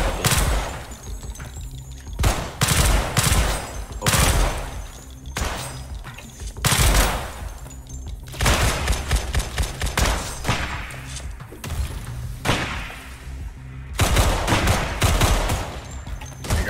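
Rapid gunfire in the Roblox survival game Decaying Winter: repeated loud bursts of shots in uneven clusters, with thumps and echoing tails filling the stretch from start to end.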